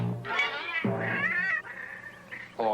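A cat meows several times in a row, close and clear, with drawn-out, wavering cries that rise and fall in pitch and end in a short final call.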